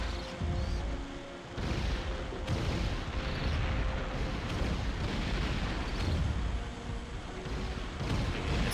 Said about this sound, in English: I want the grenade launcher.